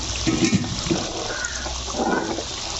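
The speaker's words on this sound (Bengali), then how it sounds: "ফোড়নটা আমি ঢেলে দিচ্ছি" Hot spice tempering poured over Bengali duck curry, giving a loud rushing hiss and splash that swells, eases, then surges again over a few seconds, close by and with no speech.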